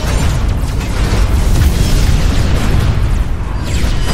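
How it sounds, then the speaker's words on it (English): Pulse cannon hits and ship explosions in the space strategy video game Vega Conflict, a loud, continuous wash of rumbling blasts and crackling impacts with no pauses across the whole stretch. "two hits from the pulse cannon finished off that one ship"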